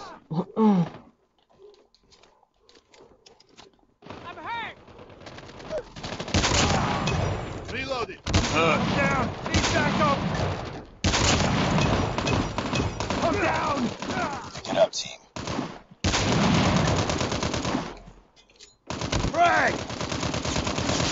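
Rapid bursts of gunfire crackle in a Call of Duty Mobile ranked match, loud and close, coming in repeated clusters between quieter gaps, with someone talking over parts of it.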